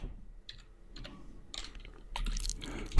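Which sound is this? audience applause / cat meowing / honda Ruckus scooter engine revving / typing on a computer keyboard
typing on a computer keyboard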